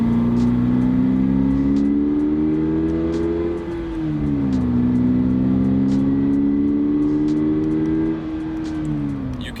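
Subaru BRZ engine held near 3000 RPM with synthetic engine sound piped into the cabin, a loud steady harmonic drone that dips slightly around four and eight seconds, alone with no talking.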